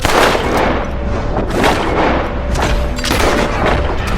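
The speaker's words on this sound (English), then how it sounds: "Nice shooting, Arthur" Gunfire in Red Dead Redemption 2, a rapid series of loud booming shots, roughly one every half second, layered with echoing reports in a close-quarters shootout.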